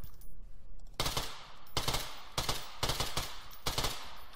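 Gunfire in the video game Garry's Mod during a military roleplay mission: four or five short bursts of automatic fire, each a sharp loud crackle lasting about half a second, separated by brief quiet gaps.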